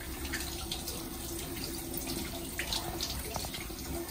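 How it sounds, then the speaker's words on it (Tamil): Tap water runs steadily into a sink while hands are washed, a soft continuous splash with a few small spatters and no talk. "இப்ப நல்லா கைய கழுவியாச்சு"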